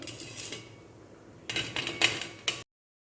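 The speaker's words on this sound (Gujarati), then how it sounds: "આપણે અહીંયા ડીશમાં લઈશું એટલે અવાજ પણ સરસ આવશે." Crispy fried masala kurkure pasta tipped from a slotted spoon onto a dish, giving a few dry clattering rattles near the end after a quiet stretch, close and moderately loud.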